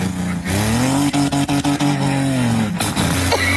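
A voice imitates a sputtering pickup truck engine, a loud buzzing drone with rhythmic stutters and a rising rev before it cuts off.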